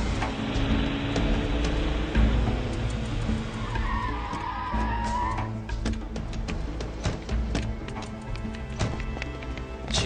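Car tires squeal briefly in a skid as a car brakes to a stop, set over ongoing traffic and engine noise in a drama scene.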